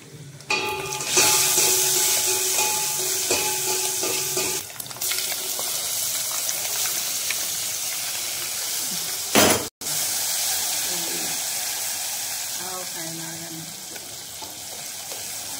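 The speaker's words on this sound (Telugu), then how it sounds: "ఇప్పుడు పోపు పెట్టాలి. అదిగోండి పోపు." Tempering spices crackle and sizzle steadily in hot oil for a tomato chutney, a loud continuous frying hiss with brief clinks and a stirring clatter partway through.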